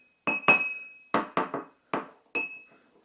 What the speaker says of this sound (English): making plenty of noise with all that clinking, with just some light taps of the 2 pieces of stoneware